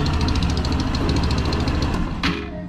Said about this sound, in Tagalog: Ayan na, stable na yung makina natin mga retrat.